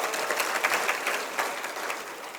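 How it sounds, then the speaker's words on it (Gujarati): Steady applause from an audience at a Gujarati religious satsang in Surat, dense continuous clapping at moderate volume that tapers slightly toward the end. "તાળી પાડો"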